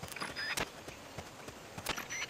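Footsteps in the video game Metal Gear Solid Peace Walker HD on PS3 sound as a short run of sharp, irregular clicking steps, fairly close, over a quiet background.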